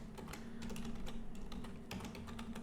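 A computer keyboard clicks under fast, irregular typing in quick bursts of keystrokes, close and fairly quiet over a low steady hum, with no voices.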